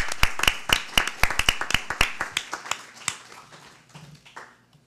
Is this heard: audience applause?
yes